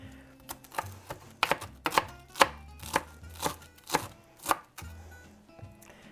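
Knife chopping cilantro on a board for a veggie chili, about a dozen crisp, close thuds in an uneven rhythm with short pauses, no talking.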